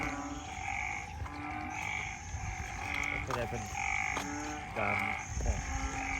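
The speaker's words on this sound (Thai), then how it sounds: "เสียงกบเสียงเขียด" Frogs croak in a steady chorus near a flooded house entrance, with repeated pulsing calls from several animals at moderate distance against a constant wet background.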